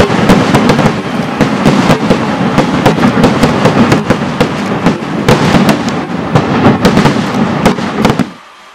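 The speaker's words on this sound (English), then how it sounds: "the temple grounds prepares for the vibrant tradition of fireworks called Vadakkunathan" Dense fireworks barrage at the Thrissur Pooram festival Vedikettu on temple grounds in Kerala: loud, continuous rapid cracks and booms rolling together for about eight seconds, then cutting off abruptly.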